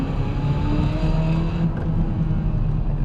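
A Ferrari 355 engine pulling under acceleration, with a continuous loud drone and faint rising harmonic tones, and a slight shift partway through as the revs change.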